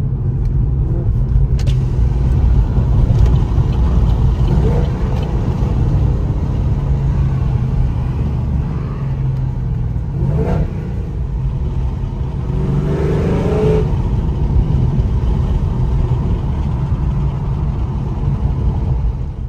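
Chevrolet SS V8 with Cook's headers and OEM-style cats, a loud, close, continuous engine rumble with a couple of brief throttle swells near the middle; no one talks.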